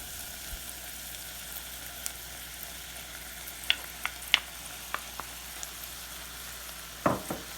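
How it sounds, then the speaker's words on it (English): Mushrooms and onions cooking in butter in a pan, a faint, steady low sizzle under occasional soft clicks and scrapes of stirring, with a louder utensil knock near the end and no talking. "I'm going to add those to the butter and onion mixture to start cooking down as well."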